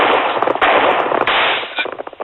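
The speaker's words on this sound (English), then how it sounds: "You hit him, Cody." Gunfire in a radio drama sounds as a few sharp, loud cracks in quick succession, with a dense blast of noise between them that tails off into scattered pops.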